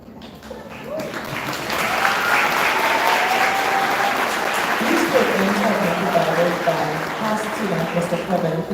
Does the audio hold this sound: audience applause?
yes